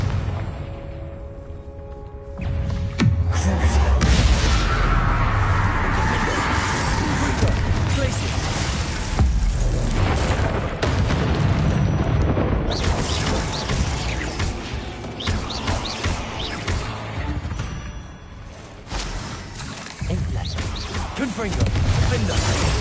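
Confringo blasts go off in the Hogwarts Legacy video game, with repeated crashes and bursts over busy game sounds, while a player talks and calls out spells throughout.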